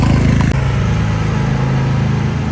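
Lawnmower engine droning steadily nearby as it passes, a loud, even mid-pitched hum with a faint knock early on.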